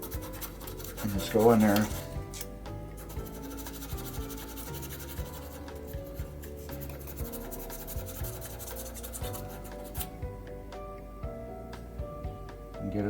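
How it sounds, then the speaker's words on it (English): Metal contacts on a 1974 Williams Star Action pinball lock relay are sanded with 600-grit sandpaper, producing quiet, repeated short rubbing strokes over a faint background. Someone speaks briefly near the start. "I'm just going to use my normal 600 grit sandpaper"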